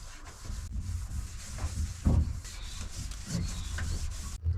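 A cloth rubs and wipes wax and grease remover across the surface of an aluminium boat, giving soft, irregular scrubbing strokes with a few louder swipes, close up.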